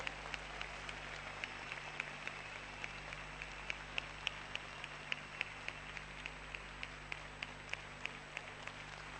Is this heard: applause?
yes